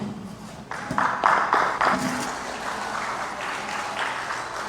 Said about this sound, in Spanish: al abogado Edison Vargas, al cual le damos un aplauso de bienvenida.